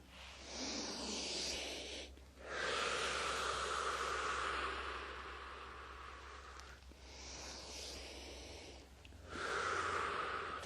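Slow, deep breathing during a Pilates exercise, long airy inhales and exhales alternating in a steady rhythm with short pauses between, close and clear with no talking.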